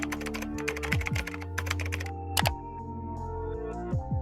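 Computer keyboard typing in a steady run of clicks over a sustained musical backing, fairly close and clear, with no voices.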